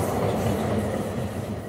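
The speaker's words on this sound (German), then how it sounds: "rennst eilig zur Straßenbahn, die dir aber wieder vor der Nase wegfährt" A tram pulls away nearby, a loud, steady low rumble with faint rail clatter throughout and no voices.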